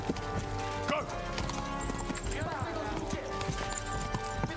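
A horse gallops in the medieval video game Kingdom Come: Deliverance II, with steady clip-clop hoofbeats running under continuous game music and a player talking throughout.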